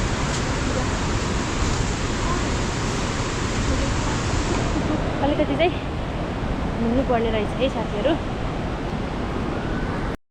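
A waterfall roars as a steady, dense broadband rush filling the whole clip, loud and close, with voices talking over it.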